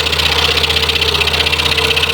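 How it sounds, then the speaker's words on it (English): A scroll saw runs with its dust blower switched on, giving a loud, steady mechanical drone with a rapid, even buzzing vibration throughout. "Let's get our blower working."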